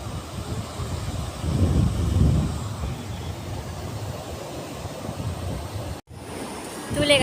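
Sea waves wash onto a windy beach in a steady, broad roar, swelling and easing, with gusts buffeting the microphone and a brief dropout near the end.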